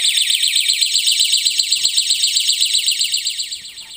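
Electronic alarm noise maker sealed in a box inside a wall cavity packed with fiberglass insulation, sounding as a steady, loud warbling high-pitched tone with rapid pulsing that fades slightly near the end.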